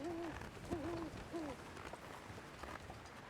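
An owl hoots three times in a soft, wavering rhythm within the snowy wilderness of the video game The Long Dark, set against a faint, hissing ambient background.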